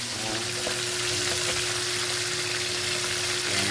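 Red fish frying in a pan, a steady dense sizzle that stays loud and close throughout with no voices.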